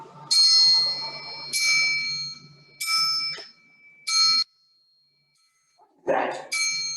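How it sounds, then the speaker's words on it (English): A bicycle-style bell rings five times in separate, evenly spaced dings, bright and close, with a brief rustling thud in a pause near the end. "I know it's a bell, but why is it ringing?"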